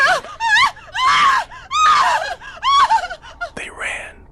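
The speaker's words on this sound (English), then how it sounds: "Lida screamed." A woman in a ghost story lets out a series of shrill, close screams and wails, one after another, ending in a sharp gasp.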